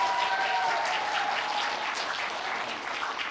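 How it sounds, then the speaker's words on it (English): Steady applause fills a school theatre after a junior house music event, a dense even clapping from a sizeable audience that holds throughout without voices. "Need a massive round of applause."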